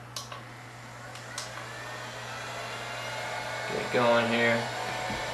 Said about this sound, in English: luckily I have the heat gun here. Put it on the lowest power